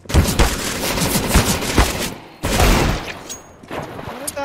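Light machine gun fire in a video game bursts out in rapid volleys, loud and close, with a short gap before another burst of shots.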